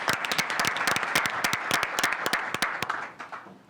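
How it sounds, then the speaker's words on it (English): A small press conference audience on a highway safety project claps for a district engineer, with sharp, distinct claps close by that thin out and stop near the end. "he deserves a round of applause"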